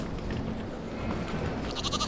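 Sheep in the Farming Simulator 22 video game bleat over steady ambient background noise, with a short nasal call rising near the end.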